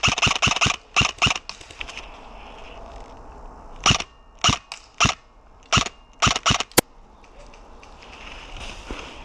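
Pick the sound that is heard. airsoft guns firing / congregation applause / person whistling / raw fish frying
airsoft guns firing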